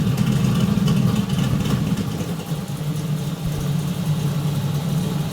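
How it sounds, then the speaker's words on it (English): A 1968 Chevrolet Camaro engine idles steadily with open exhaust, a deep, rumbling note, loud and close, holding a constant low throb throughout. "Live. Open exhaust."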